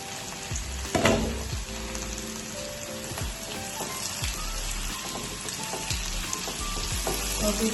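Food frying in a pan at home, a steady sizzle with repeated stirring scrapes and knocks, one louder clatter early on, and no talking.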